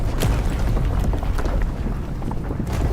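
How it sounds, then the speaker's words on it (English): A big explosion in the video game Avowed, a loud, sustained low rumble with broadband roar that fills the whole stretch without clear breaks. "That was a damn big explosion, wasn't it?"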